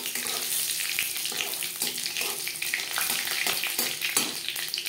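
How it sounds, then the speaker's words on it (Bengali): Dried red chillies fry in hot refined oil in a pan, giving a steady, dense crackling sizzle that continues evenly throughout with no voices. "শুকনো লঙ্কা ভাজা হয়ে গেছে।"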